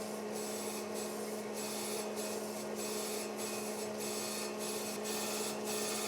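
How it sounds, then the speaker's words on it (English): Grinding wheel on a crankshaft grinder running steadily in a machine shop, a constant hum and rasp with a rhythmic swishing pulse about every half second, fairly faint and unbroken. "I hate doing jobs like this because it's kind of hard on the grinding wheel."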